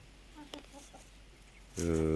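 Backyard hens kept alongside pigeons cluck softly in a few short notes, then one bird breaks into a loud, harmonic squawk at the end.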